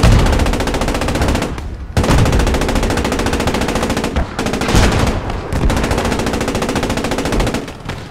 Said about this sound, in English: Trying to get the machine gun a better angle there.